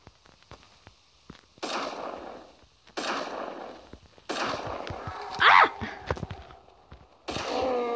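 Sniper rifle shots in the Carnivores: Ice Age video game, a handful of sharp cracks spaced a second or two apart with short decaying tails, alone and fairly loud.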